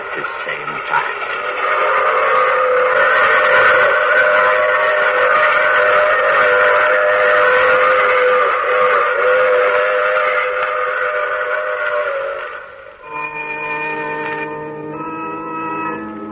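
A train rumbles steadily in an old-time radio mystery drama sound effect, then a loud, multi-toned steam whistle sounds in repeated blasts near the end, with no talking over it.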